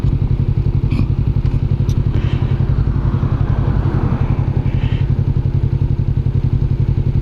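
A 2021 Kawasaki Vulcan S motorcycle engine idles steadily up close, a loud, even rapid thumping pulse with light mechanical clatter running throughout, no voices.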